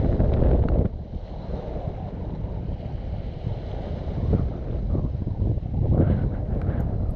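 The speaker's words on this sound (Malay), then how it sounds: "Angin dah semakin kuat" Strong wind gusting at a fishing spot as rain approaches, a loud continuous rumbling buffet across the microphone with rising and falling gusts.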